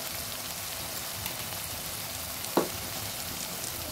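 Mutton fries with onions for a curry in a steady, close hiss of sizzling oil, with one brief utensil clack partway through.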